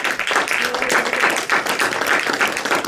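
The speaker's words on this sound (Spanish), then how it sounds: "damos una ofrenda de palmas al Señor" A church congregation claps together in praise. The applause is loud and dense, with a fairly steady pulsing rhythm that runs the whole time.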